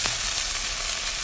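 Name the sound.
moringa leaves frying in pan with mustard seeds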